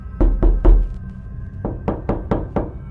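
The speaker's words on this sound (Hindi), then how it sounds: "उसने 2-3 बार दरवाजा खटखटाया।" Knuckles rap on a door in an Indian village, in two bursts of three sharp knocks and then four evenly spaced ones, close and loud with no voices.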